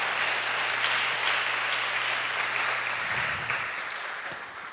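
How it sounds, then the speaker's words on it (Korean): Clapping inside a church sanctuary during a sermon, a dense and steady patter that holds evenly for about three seconds and then fades slightly toward the end, with no voices over it. "박수 쳐주시는 한 분이 계십니다"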